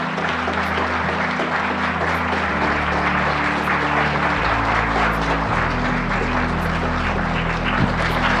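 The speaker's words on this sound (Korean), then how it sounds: "큰 박수 부탁드립니다." A dense, steady wash of applause from a large lecture audience at a scholarship presentation, loud and continuous throughout, with a low droning hum underneath.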